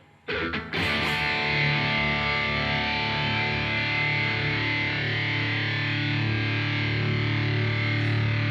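Heavily distorted Kramer Barretta Special electric guitar through Quad Cortex 50-watt Plexi and AC30 amp models rings out after a quick strum, sustaining a thick, saturated chord loudly and steadily with no voices.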